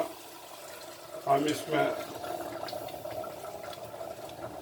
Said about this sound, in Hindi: तकरीबन आधा लीटर पानी जो है ना ये डाल देंगे